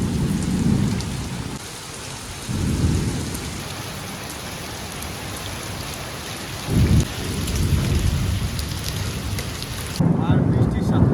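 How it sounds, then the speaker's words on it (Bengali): Heavy rain pours steadily outdoors near a parked vehicle, with several deep rolls of thunder rising and fading over the constant downpour. "আর দেখো কী পরিমাণে বৃষ্টি হচ্ছে।"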